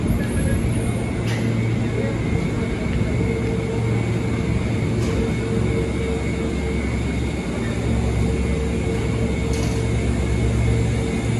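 A steady, loud rumble and hum inside a moving Merak local train in Indonesia, continuous throughout with faint voices in the background.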